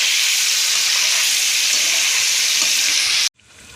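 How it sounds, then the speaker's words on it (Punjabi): Soya chaap frying in hot oil in a pan on full gas with bay leaves, a loud steady sizzle close up that cuts off abruptly near the end. "ਹੁਣ ਚਾਂਪ ਨੂੰ ਭੁੰਨਾਂਗੇ ਆਪਾਂ ਚੰਗੀ ਤਰ੍ਹਾਂ ਭੁੰਨਣੀ ਹੈ"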